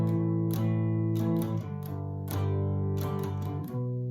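A 3-string cigar box guitar plays verse chords: a single root note, then a down-up strumming pattern of ringing, buzzy chords, close and alone.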